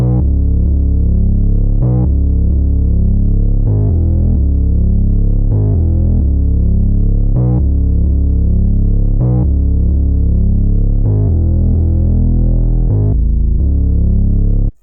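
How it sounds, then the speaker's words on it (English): A distorted 808-style bass line loops under a trap beat, using a Baked Bass sample; deep sustained bass notes change pitch with sharp hits roughly every two seconds, loud and steady throughout. "So this was the bass line that I came up with for this loop"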